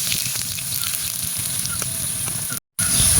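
Chopped onions hit hot oil in a clay pot for Kolkata-style egg biryani, giving a loud steady sizzle and hiss that runs continuously, broken by a brief dropout near the end.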